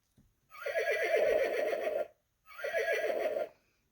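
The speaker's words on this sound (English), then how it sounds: "That sounds like a horse" A recorded horse neigh from an interactive train sound book, played as two loud, close whinnies of about one and a half and one second, separated by a short gap, with no talk.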